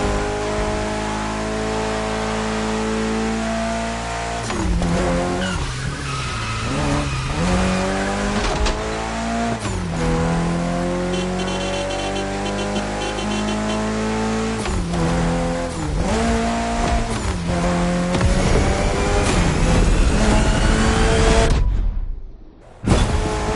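Race cars roar through The Crew Motorfest video game, with engines revving up and down through gear shifts and tires squealing, loud and continuous with no talk, before a brief drop near the end.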